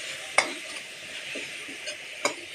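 Chopped beetroot and carrot thoran is stirred in a pan, with two sharp spoon scrapes standing out close. A soft, continuous frying sizzle runs underneath, with faint shuffling between the scrapes.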